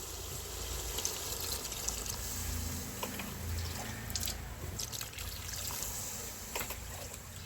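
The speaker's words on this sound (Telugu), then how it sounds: "వాటర్ పోతున్నాను." Water is poured steadily into a pot of mutton curry with spices, a soft continuous trickle and splash that stays fairly faint and close, with no speech.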